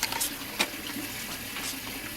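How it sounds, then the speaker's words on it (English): Water running steadily from a hose into an empty metal gas barrel, a continuous hollow gurgling splash with a few sharper drips and clinks, moderately faint. "So here's the gas barrel, it's being filled with water."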